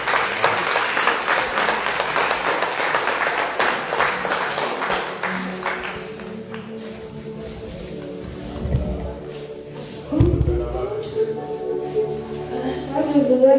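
A church congregation applauds in praise during prayer, a dense burst of clapping for about six seconds that fades out, after which a voice speaks.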